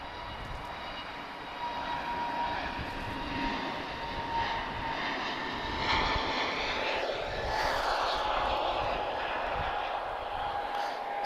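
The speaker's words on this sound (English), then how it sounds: "Sorry, I know I'm interrupting a takeoff here." Airliner taking off at Lisbon Airport, a steady broad jet-engine roar holding loud and fairly close throughout with a rising whine, no talk over it.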